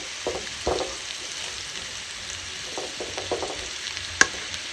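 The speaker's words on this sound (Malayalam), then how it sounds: "ഇടിച്ചക്ക വറവ് ഇത് മിക്സിയിലിട്ട് അടിച്ചിട്ട് നമുക്ക് വറവുണ്ടാക്കാം" Young jackfruit stir-fry frying in a pan, a continuous close sizzle broken by scraping, clattering stirring strokes and an occasional sharp tap, with no talking.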